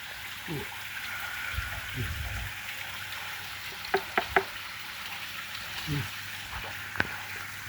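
Water from an artificial garden waterfall splashes and trickles continuously at a moderate level, broken by short splashy bursts, with brief voices nearby.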